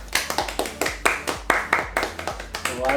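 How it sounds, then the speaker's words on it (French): Two people clap their hands in quick, sharp bursts, about a dozen close, loud claps in a loose uneven rhythm. "moi j'applaudis et je vais applaudir avec toi dans le cadre."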